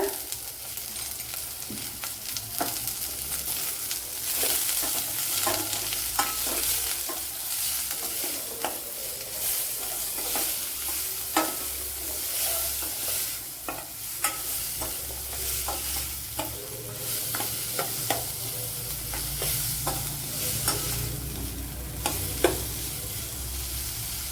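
Onions frying in a pan with curry leaves, Kerala-style egg dish, stirred with a spoon: a steady close sizzle with frequent sharp scrapes and clicks of the utensil against the pan, no talking.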